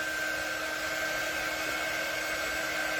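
A hair dryer blows steadily on a snowman door hanger craft, a loud, unbroken whirring hum with a constant high whine and no talk over it.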